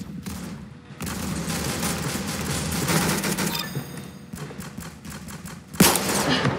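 Rapid bursts of gunfire from the Roblox game Arsenal rattle in dense, loud volleys, pausing briefly between strings, with a sharp single shot standing out near the end.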